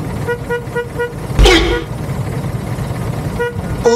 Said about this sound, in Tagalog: Ang ganda ng busina mo, kuya.